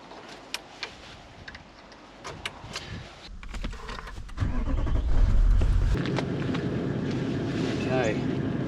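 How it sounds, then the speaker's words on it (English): A cruiser vehicle's engine cranks and catches partway through, building into a loud, steady running rumble after some clicks and handling noises, with a voice speaking in the background. "I'll connect that up and then I'll go and start the cruiser up"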